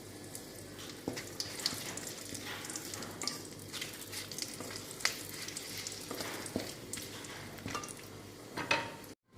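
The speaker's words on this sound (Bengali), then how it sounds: "আমি এই তেলে দিয়ে দিব তেজপাতা আর জিরে ফোড়ন, দারচিনি আর এলাচ।" Bay leaf, cumin seeds, cinnamon and cardamom sizzle in hot oil left from frying potatoes, a close, quiet crackling hiss with scattered sharp pops and spits throughout.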